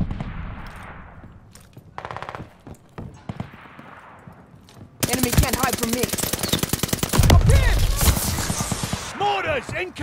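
Submachine gun fire in Call of Duty Vanguard multiplayer: a few sparse shots early, then loud, dense rapid-fire bursts that dominate the second half, with game voice callouts mixed in.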